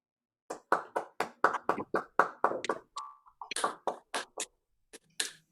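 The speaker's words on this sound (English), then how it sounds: "give our speakers a round of applause to thank them" A few participants on an online video call clap for the speakers after a talk, sparse separate claps close to the microphone, loosely rhythmic with brief gaps.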